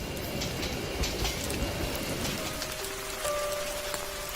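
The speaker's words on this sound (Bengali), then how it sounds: "শুধু ঝুম বৃষ্টি ঝরছে।" Heavy rain pours steadily on an empty railway station at night, a dense, constant hiss of drops with a faint tonal hum entering partway through.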